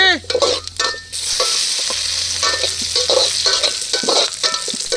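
Chopped garlic hits hot oil with five-spice in a village-style kitchen, a sharp burst of sizzling that settles into a loud, crackling fry punctuated by repeated scraping stirs of a spatula, up close.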